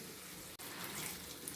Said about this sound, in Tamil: தண்ணி சேர்க்குறேன்.